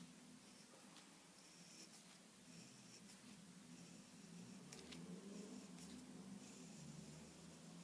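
A pen draws a smooth curve on paper, soft continuous close scratching with a few light taps, over a quiet room hum.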